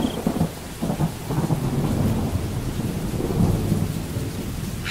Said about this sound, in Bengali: বিদ্যুৎ চমকাচ্ছিল আর জোরে বৃষ্টি হচ্ছিল